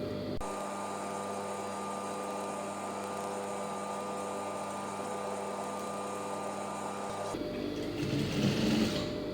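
A sewing machine runs steadily, stitching the lining of a blouse with a loud, continuous motor whir that cuts off near the end and gives way to handling noise.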